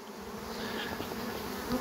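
Honey bees swarm around an opened hive during the honey harvest, making a steady, close, continuous buzz that hums on without any speech.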